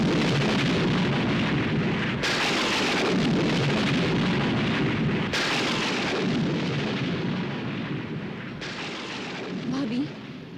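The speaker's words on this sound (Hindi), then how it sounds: "लगता है तूफान आने वाला है" Deep, heavy rumbling thunder from an approaching storm rolls on continuously, with loud cracks near the start and a few surges of renewed crashing, filling the whole stretch without letting up.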